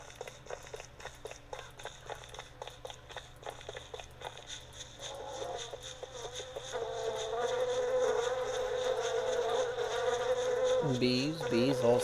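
Bees buzz steadily in the survival video game Don't Starve, a close, continuous insect drone with scattered clicks and rustles. It thickens and grows louder partway through, with no talking.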